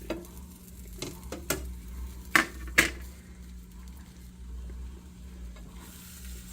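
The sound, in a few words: scrambled eggs frying in a small pan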